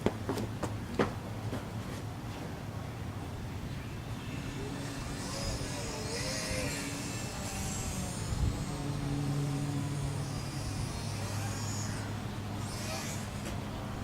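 A small Ares Nano Micro Stick 75 RC airplane's electric motor whines faintly and distantly as it flies in to land, its thin pitch rising and falling over steady outdoor background noise.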